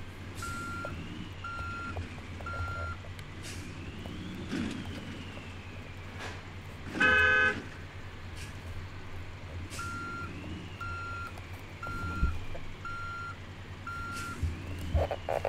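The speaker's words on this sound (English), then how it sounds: "What was that? Is that a beep?" A bus backing up in the driving game BeamNG.drive, its reversing alarm sounding as regular repeated beeps in short bursts over a steady engine rumble, with a brief louder hiss partway through.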